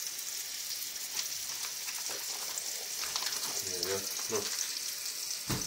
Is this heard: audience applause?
no